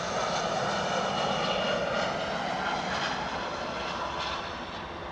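Iberia airliner at Edinburgh Airport, its jet engines roaring steadily as a broad, loud rush that fades slightly toward the end, heard alone without voices.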